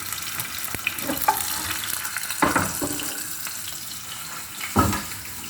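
Sausages fry in a pan with a steady, moderate sizzle, broken by a few sharper clatters and stirring bursts near the start, middle and end.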